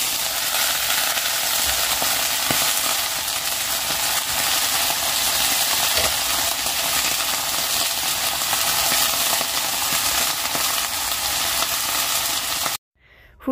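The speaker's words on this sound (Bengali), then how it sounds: "এখন এখানে কাঁচা পেঁয়াজ, কাঁচা লঙ্কা দিয়ে আর একটু জিরা ফোড়ন দিয়ে ফুলকপিটাকে ভালো করে ভেজে নিচ্ছি" Cauliflower frying in a pan with raw onion, green chili and cumin seeds, a steady close broadband sizzle running unbroken for about thirteen seconds before cutting off abruptly near the end.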